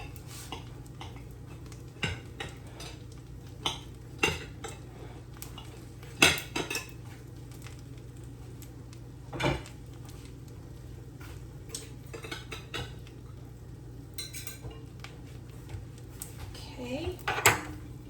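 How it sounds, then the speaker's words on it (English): A knife cuts cornbread alongside dishes and cutlery in a home kitchen, scattered close clinks, scrapes and taps of metal on a plate or pan over a quiet background hum. "Go ahead and cut the cornbread."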